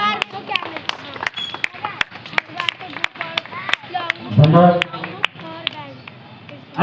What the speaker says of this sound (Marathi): सर्वांनी टाळ्या वाजवायच्या आहे.